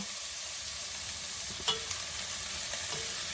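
Shrimp curry base sautéing in a pan over medium heat, a quiet, even sizzle with a few faint stirring clinks, no talking.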